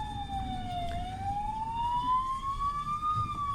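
Ambulance and police escort sirens wail with a slow rising and falling pitch over the low rumble of Paris road traffic, fairly close and steady.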